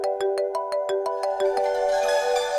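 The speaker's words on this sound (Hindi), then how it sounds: "किसका फोन है?" A phone ringtone plays as a quick melodic chime pattern, repeating evenly a few times before a fuller synth tone takes over, loud and close with no voices.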